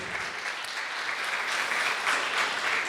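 Church congregation giving a strong round of applause to the Lord, a dense, steady wash of clapping heard from a slight distance with no voices over it.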